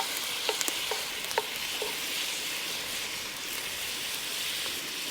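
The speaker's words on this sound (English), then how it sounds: "Help cook that mince up." Beef mince splashed with a little beer sizzles steadily in a pan over an open fire, with a few sharp scraping clicks from stirring early on and no voices.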